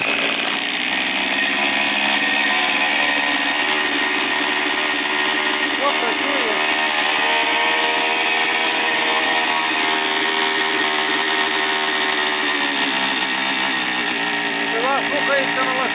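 A Chinese petrol chainsaw runs after a repair with a loud, steady high-pitched engine drone that holds throughout, its pitch shifting slightly near the end.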